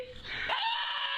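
A dog's recorded scream rises into a piercing, sustained high-pitched shriek lasting about a second, loud and close.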